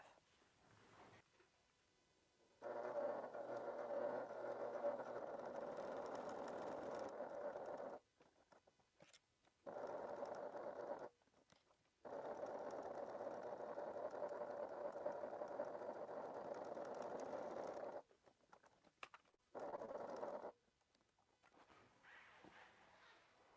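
Sewing machine stitching suede with thick thread, running in long steady bursts broken by short pauses, a close, even mechanical whir that starts and stops several times.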